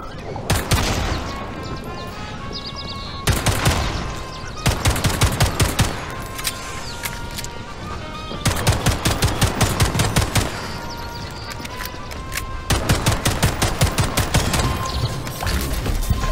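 Rapid pistol gunfire in the video game Atomic Heart, crisp repeated shots fired in several bursts over a steady game soundtrack, loud and close with brief pauses between volleys.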